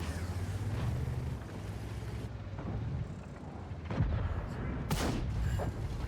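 A tank cannon fires in a tank video game, a muffled boom over constant engine rumble, followed by a second sharp blast a moment later, with someone talking throughout.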